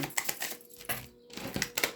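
An Angel Numbers Oracle card deck being shuffled up close, producing quick irregular papery flicks and clacks in short bursts with brief pauses between them.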